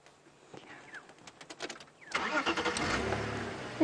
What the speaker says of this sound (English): I think if I start my engine now, they're going to get a bit of a fright.